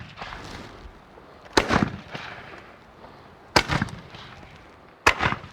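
Civil War reenactors at a Gettysburg anniversary event fire black-powder muskets one after another by file, three loud sharp reports spaced a second or two apart, each with a rolling outdoor echo.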